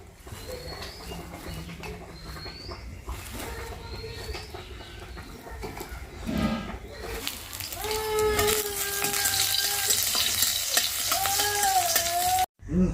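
Khuriya greens cook in a pan, giving a soft sizzle and occasional stirring that grow louder in the second half, with bird cooing in the background.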